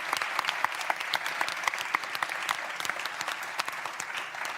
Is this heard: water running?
no